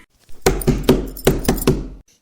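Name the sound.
knocking on a door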